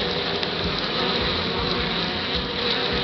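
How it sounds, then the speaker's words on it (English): Honeybees buzzing steadily around a yard of about twenty hives in mid-January, a dense continuous drone with no talking. "And you know, I got 20 hives here. Got a lot of bees."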